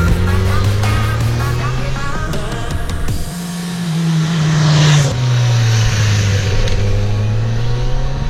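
A Honda CBR RR sport motorcycle on Michelin Power RS tyres rides winding roads, its engine revving loud and close with rising and falling pitch through gear changes, alone with no talk.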